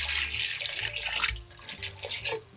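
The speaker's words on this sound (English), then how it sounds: "So now I'll take this water and I'll fill up the pot" Water runs steadily from a tap into a pot of potatoes, a broad continuous splashing rush with slight surges as the pot fills, close and fairly loud with no talking.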